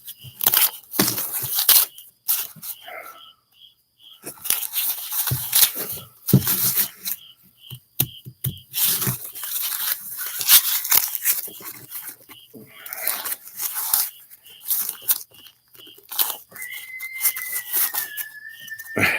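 Dried popcorn ears from the harvest are husked by hand, giving repeated close crinkly rustles, crunches and tearing of papery husks in uneven bursts with short pauses between.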